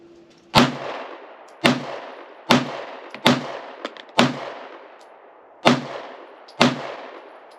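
Seven sharp, loud pistol shots from a Shadow Systems MR920 Elite, fired outdoors at an uneven pace with short gaps and one longer pause, each with a quick decaying echo.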